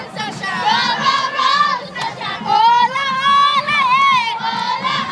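A group of elementary school children chant a loud, high-pitched cheer in unison while marching in a junior parade, voices rising and falling in shouted phrases with a brief dip near the middle.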